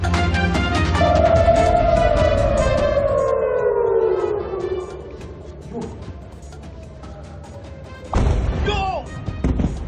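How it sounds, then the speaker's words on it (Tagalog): An air raid siren wails over Tel Aviv, its tone rising and slowly falling for several seconds, then a sudden loud explosion bursts in near the end, followed by rumbling. "Alingaw-ngaw ng sirena na sinundan ng pagsabog ang bumulabog sa mga taga Tel Aviv sa Israel kagabi."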